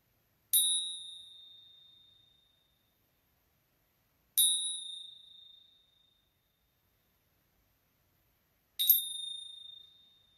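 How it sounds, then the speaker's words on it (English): Three bright bell strikes rung during a winter solstice ritual, each a clear high ding that rings out and fades slowly, spaced about four seconds apart in an otherwise quiet room. "so gonna ring the bells for abundance and gratitude for all 2020 has taught us and given us"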